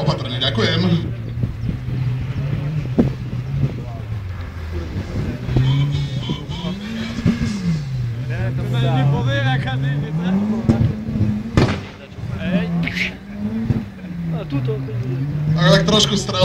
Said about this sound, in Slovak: Volkswagen Golf 1, 2 liter turbo, priatelia, 4x4.